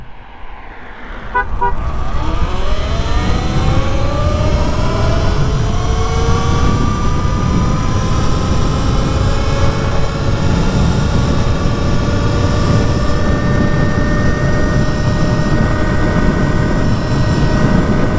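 A 2023 Talaria Sting R electric dirt bike in sport mode on a top speed run, its motor whine climbing steadily in pitch as it accelerates, then holding a loud, sustained high tone under heavy wind rush throughout.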